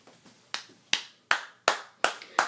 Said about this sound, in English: Joy's clapping.